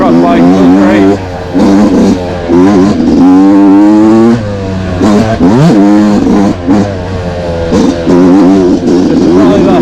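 A Yamaha YZ two-stroke motocross bike with a flywheel weight and Apex racing head revs loudly and close, its engine note rising and falling through throttle blips while a voice talks over it.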